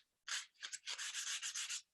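Hand-sanding a finish coat, a close, loud scratchy rubbing in quick repeated strokes with brief pauses between passes, steady and rhythmic with no voices.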